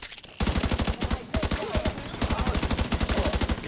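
Rifle fire in The Division 2, loud rapid automatic bursts of sharp shots in quick rhythmic strings, close and dominant, with brief pauses between volleys.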